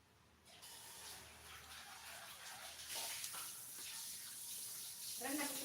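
Tap water runs steadily into a sink while a wok soaks during soto ayam cooking, a continuous hissing splash at close range with brief clatter near the end.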